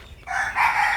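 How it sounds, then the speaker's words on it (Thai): A small bantam rooster crows once in a garden at the edge of a bamboo clump, a clear, fairly close, high-pitched call lasting about a second with no voices over it. "ไก่แจ้น้อย"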